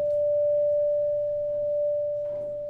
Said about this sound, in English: sine tone that resembles a hospital monitor begins, and is gradually joined by accompanying tones to make a layered effect